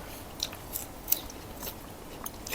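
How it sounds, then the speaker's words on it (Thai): Faint, close chewing of kaffir lime leaves eaten with a stir-fried scallop dish and Thai herbs, a few soft crunchy bites and scrapes spread over a quiet background. "เคี้ยวใบมะกรูดแล้วขาด"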